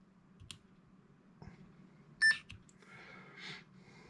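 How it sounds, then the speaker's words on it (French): Power switch of a small Wltoys 144001 RC car remote control clicking on, with a few sharp clicks, a short beep and faint electronic chirps over a low steady hum, close and quiet. "on allume la petite télécommande"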